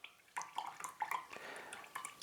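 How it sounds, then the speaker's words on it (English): Water drains from the tank of a Browns gas generator, giving faint, close drips and light trickling spatters for a couple of seconds with no talking. "we've now got the water draining out"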